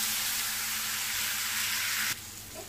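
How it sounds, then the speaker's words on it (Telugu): Dry wheat semolina (godhuma rava) roasting in a pan gives off a steady, close sizzling hiss that cuts off abruptly near the end, leaving only faint low kitchen noise. "కొంచెం కలర్ వచ్చిందాక వేయించుకుందాం, ఒక 5 నిమిషాలు"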